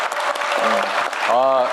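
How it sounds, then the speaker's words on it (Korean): Audience applause in a packed hall during a town hall meeting in Jeonbuk, steady and dense throughout, with a voice calling out over it near the end. "박수 한번 좀 보내주십시오."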